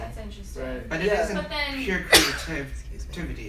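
One sharp sneeze from a person off camera cuts in briefly while people keep talking nearby.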